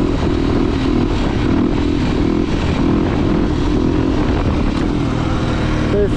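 A 350 cc enduro motorcycle riding at about 40 km/h, its engine giving a steady, loud, close drone that holds an even pitch throughout.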